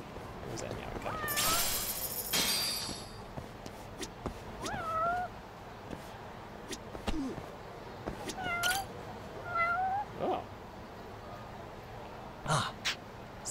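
A cat meows repeatedly in the video game Judgment, several short, rising mews spaced through the scene, mixed with someone talking, some clicks and a burst of noise.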